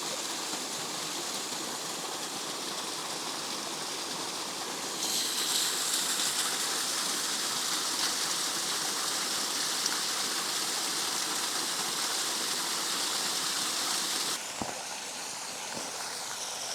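Hopp Brook Falls, a Connecticut waterfall, pours in a continuous broad hiss and rush, growing louder midway as if approached, then easing back, with no voices present.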